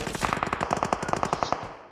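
Rapid automatic gunfire in the battle royale video game BGMI, a dense burst of evenly spaced shots with a slight echo, loud and close, running continuously with no talk over it.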